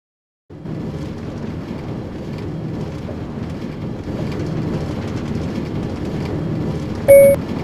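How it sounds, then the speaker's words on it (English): Subway train in a Minecraft fully automatic metro line pulling away from the platform, a steady rumbling rail noise that holds and slowly builds, with a brief chime-like tone near the end. "train at platform A is now departing. Please stand clear."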